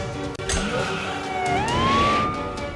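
A police car siren from the Total Drama cartoon wails up and sustains its rising tone, fairly loud and clear over background music, as if the car is approaching.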